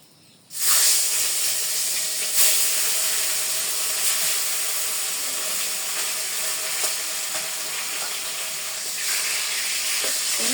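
Fish sizzles in hot oil in a wok, a loud, continuous hiss and crackle that bursts in abruptly and holds steady close by, with no talking.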